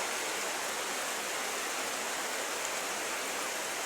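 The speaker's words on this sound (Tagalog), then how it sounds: "Umulan na dito guys." Steady rain falls outside, a dense broadband hiss that holds even and continuous throughout with no voices over it.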